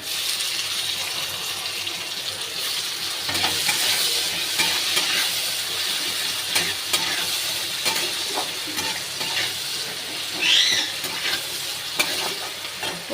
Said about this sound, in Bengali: পেঁয়াজটা বাদামি করে ভাজা হয়ে গেছে, এবার টমেটোটা দিয়ে দেবে।